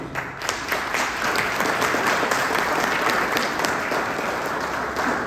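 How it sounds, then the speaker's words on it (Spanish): An embassy audience at a book presentation breaks into dense, steady applause that holds at full strength for several seconds, close and lively throughout. "Así que le demos un aplauso."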